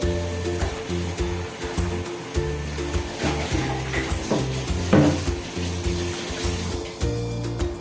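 Multi cooker pot being washed by hand, water splashing and swishing with scrubbing and light clinks of the pot, steady and close throughout.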